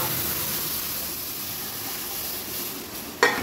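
Milk goes into roasted semolina in a hot pan, raising a steady, broadband sizzling hiss, and a sharper splash-like burst comes near the end, with no voices.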